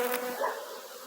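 Bees buzz in a dense, steady swarm around an open hive being removed in Jamaica, a close insect drone filling the short moment with no talk.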